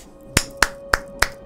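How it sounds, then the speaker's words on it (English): Four sharp, evenly spaced hand claps, close and loud against a quiet background with a faint steady tone. "I'm clapping already, dude."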